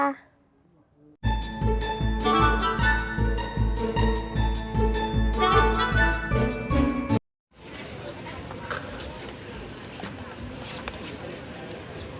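A bright, tinkling notification bell jingle rings in a rapid repeated chiming pattern for several seconds, loud and alone, then breaks off into a stretch of noisy background.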